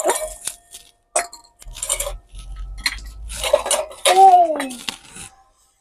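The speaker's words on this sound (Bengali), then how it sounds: "তাহলে বাটিগুলো নামিয়ে রাখি একটু" Bowls go down on a kitchen counter while fish curry is being cooked, giving several separate clinks and clatters of dishes with quiet gaps between them and a brief ringing scrape near the end.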